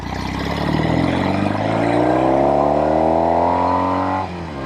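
A Norton Commando 850 motorcycle engine revs hard and close, its pitch climbing smoothly for about four seconds before dropping sharply as the throttle closes.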